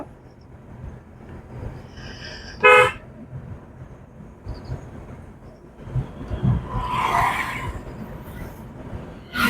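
A car horn honks during a driving lesson on a winding road: one sharp, loud toot stands out over steady road and engine rumble, followed later by a softer, drawn-out tone.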